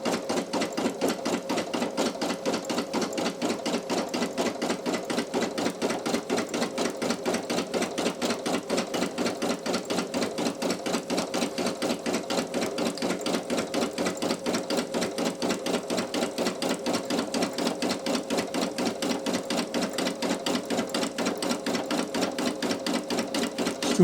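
Brother PE800 embroidery machine stitching underlay on a towel, a fast steady mechanical stitching rhythm running evenly throughout, close and unbroken.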